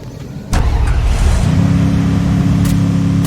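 An auto-rickshaw engine in the Free Fire video game kicks in loudly and runs on as a steady, close mechanical drone, settling into an even hum after about a second.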